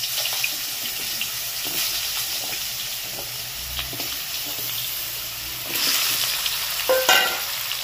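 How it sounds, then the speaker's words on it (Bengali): Long-cut potato pieces frying in oil for a rohu fish curry make a continuous crackling sizzle with light stirring and a few louder clatters near the end, with no talking. "এই আলুগুলোকে একটু ভেজে নেবো প্রথমে।"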